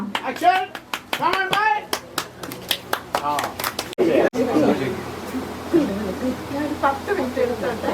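At an Onam celebration in Israel, a crowd gives a burst of scattered clapping for a skit, mixed with children's voices and chatter, followed by mixed talk and noise.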